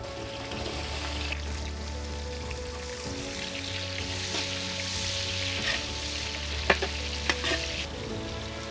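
Sliced onions sizzle and fry in hot oil with whole spices such as shahi jeera, stirred steadily for Hyderabadi mutton nalli biryani, with a constant hiss, low pan rumble and occasional scraping clinks.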